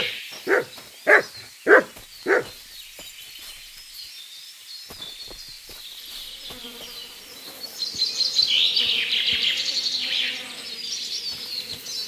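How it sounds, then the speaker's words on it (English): The dog Matt in Kingdom Come: Deliverance 2 gives four quick, evenly spaced barks up close, then quiet ambience follows, with a louder insect-like buzz swelling later on. "Good dog, Matt."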